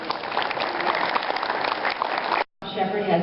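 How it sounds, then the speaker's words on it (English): Ceremony audience applauding at a Medal of Honor highway dedication in Quincy, Illinois, a steady crackle of clapping hands that cuts out briefly and then resumes with a voice speaking over it. "So can I give a big round of applause for Albert?"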